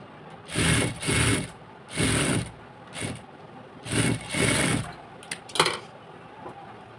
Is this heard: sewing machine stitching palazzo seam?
yes